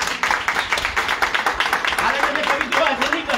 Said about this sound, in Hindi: ताली बजा कर धन्यवाद